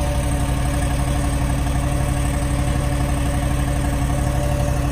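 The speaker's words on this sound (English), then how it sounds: "Listen to that motor, huh?" Motor engine idling in Arctic cold, a steady, even mid-pitched rumble running without pause, close and moderately loud, with no talk over it.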